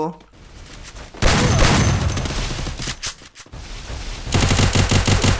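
Gunfire in the mobile shooter Free Fire, Clash Squad mode played on PC: loud, dense bursts of rapid automatic fire crackle almost continuously, dip briefly, then return in a sharp rhythmic volley.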